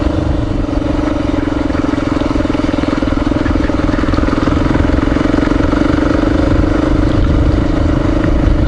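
Motorcycle engine droning steadily while riding over large loose gravel on a forest road, loud and close with a constant low rumble and faint crunching of stones beneath the tires throughout.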